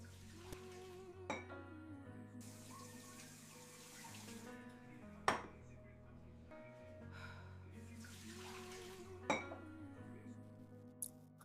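Tap water running into a kitchen sink while dirty cups are washed, a faint, steady flow broken by several sharp clinks of cups and dishes knocking together, with brief voice-like sounds in the background.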